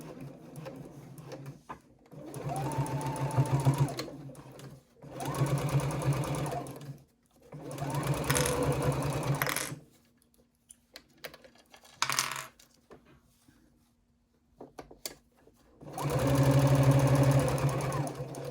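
A sewing machine back stitches a seam on a triangle pouch in several steady bursts of rapid stitching, pausing in between with a few small clicks and taps; close and clear.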